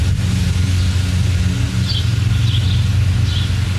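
A 1970s generator set with a 12-18 hp Briggs engine runs steadily, a loud, even low rumble with a constant throbbing drone and no break.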